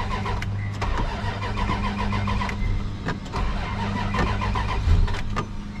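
A Dodge Ram 1500 engine cranks continuously without catching, a loud, steady churning whir with irregular clicks, with a suspected fuel pump fault.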